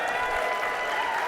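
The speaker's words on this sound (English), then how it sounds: "Can we give Pax a round of applause?" Steady applause from an audience at a motivational talk, dense and even throughout with no distinct voice standing out.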